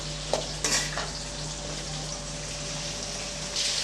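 Brinjal pieces sauté in a pan for a biryani-style eggplant gravy, a steady close sizzle with a few sharp stir and scrape clatters near the start and end, no voices.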